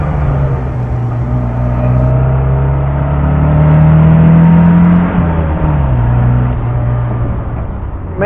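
A 1970 MGB with a four-cylinder engine and four-speed manual gearbox drives along, its steady engine drone rising gently in pitch and load through the middle before easing off, close and continuous with no talk.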